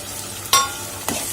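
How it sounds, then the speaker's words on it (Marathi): Tomatoes being sautéed in a pan for a dry fish dish give a soft steady sizzle, broken by two short scraping stirs of a spoon. "जोपर्यंत आपले टोमॅटो मऊ होत नाही तोपर्यंत आपण ह्याला छान परतून घेणार आहोत"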